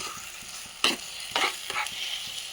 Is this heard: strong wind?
no